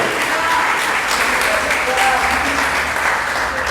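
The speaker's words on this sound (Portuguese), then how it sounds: "Vamos dar uma salva de palmas para Ruth?" A church congregation claps steadily during an evening service, a dense even wash of applause throughout with some voices mixed in.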